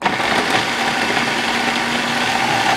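A food processor whirs steadily as it chops half a tomato, some bell pepper, coriander and onion into a homemade seasoning, with a continuous motor drone and no talking.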